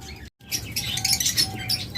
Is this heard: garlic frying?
no